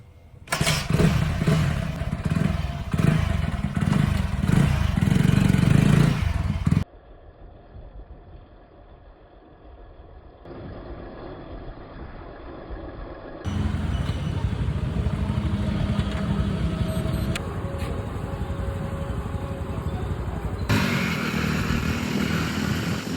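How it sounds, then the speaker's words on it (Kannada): A modified Hero Honda Splendor motorcycle runs steadily as it is taken out for a ride, its engine loud and close at first, then a sustained, steadier drone that shifts in level, with faint voices now and then. "ಈಗ ಗಾಡಿ ರೈಡಿಗೆ ಗಾಡಿ ತೆಗಿತಿದ್ದಾರೆ ಹೊರಗೆ."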